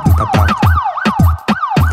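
A wailing siren sound effect within a song, rising and falling rapidly over a pounding beat, loud and up front with no talk.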